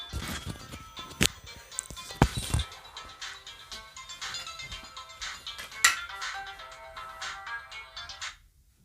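A mobile phone ringtone plays for several seconds as a repeating electronic melody with a steady rhythm, fairly loud and close, with a few sharp knocks and handling noises mixed in.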